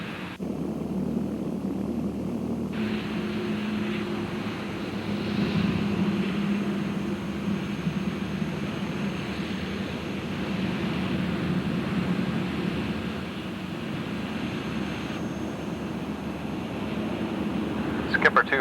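A small aircraft in a computer flight simulator game drones steadily as it comes in to land, with a continuous engine hum and someone talking over it throughout.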